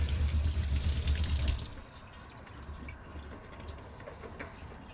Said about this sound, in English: So I'll just rinse the sweet potato off real good.